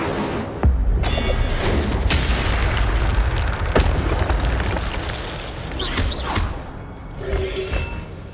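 Incendio fire spell bursts in Hogwarts Legacy, a steady roaring rumble broken by several sharp thumps and whooshing blasts, with brief voices underneath.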